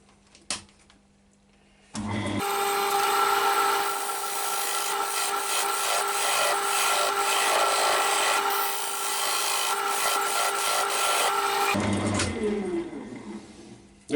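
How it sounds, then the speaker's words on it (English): Parting tool digging a mortise into a sycamore bowl spinning on a lathe, giving a loud continuous scraping, rasping cut that starts after a couple of seconds of quiet and stops near the end, with no talking. "Now I'm just using my parting tool at the moment."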